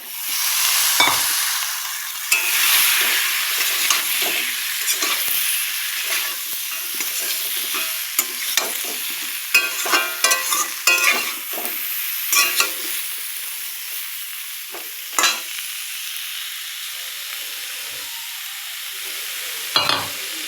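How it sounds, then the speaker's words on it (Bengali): Onions and two kinds of vegetables, ridge gourd and pointed gourd, sizzle steadily in a hot pan for a fish curry, with frequent clinks and scrapes of a spatula stirring throughout, alone with no talk. "পেঁয়াজগুলো একদম সুন্দর মতো ভাজা হয়েছে"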